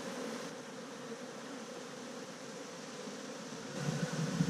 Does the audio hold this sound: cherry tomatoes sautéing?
no